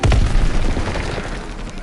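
Incendiary shotgun shells fire in Call of Duty: WWII, giving loud, close, booming blasts with a rumbling low end that fades into a ringing tail.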